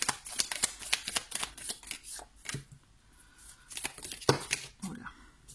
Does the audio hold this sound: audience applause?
no